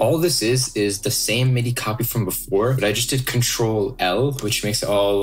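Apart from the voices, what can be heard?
No everyday noise stands out behind the speech.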